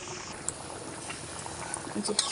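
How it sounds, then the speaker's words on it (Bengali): Desi chicken curry boils in a pot, a steady soft bubbling and popping with occasional louder plops, close and fairly quiet, with a voice speaking over it. "ভালো টকবক করে ফুটছে"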